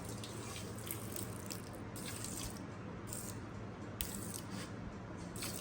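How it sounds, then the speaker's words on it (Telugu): Water is poured from a glass onto sugar in a pan for Mysore pak syrup, a steady continuous splashing and trickling that runs the whole time, close and fairly loud, with no talk. "సో చక్కెర మునిగే వరకు నీళ్లు పోయాలి"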